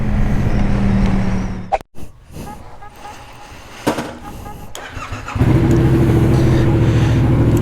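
Traffic on a busy road heard from a Yamaha MT07 motorcycle, with steady engine and road rumble that briefly drops out, then swells loud and close again near the end while a voice talks over it.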